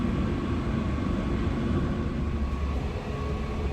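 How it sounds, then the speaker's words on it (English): Continuous broadband rumble and hiss from onboard a moving train in Northern Ireland, bound for Ballymoney, with a steady low roar throughout and no voices. "here we are now on the move. And we're going to take this train here all the way to Ballinmoney"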